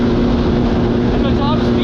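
Yamaha GP1200R personal watercraft engine running steadily at sustained revs while cornering, a loud continuous drone with a strong low hum and constant wash of water and wind noise throughout.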